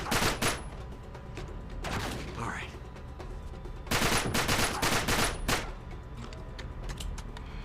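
Gunfire in the video game Uncharted 3 during a fight at a chateau: repeated bursts of loud shots and rapid automatic fire with short gaps between them, under a speaking voice.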